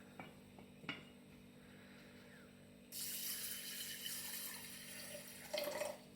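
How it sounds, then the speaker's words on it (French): Water is poured into a glass jar of seeds set to soak for sprouting, a steady close rush of filling liquid that starts a few seconds in after small clinks, with a brief louder splash near the end. "Vous couvrez d'eau, largement, et vous laissez reposer la nuit."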